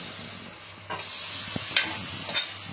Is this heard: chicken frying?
yes